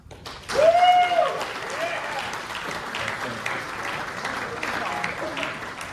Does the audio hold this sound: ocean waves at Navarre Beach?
no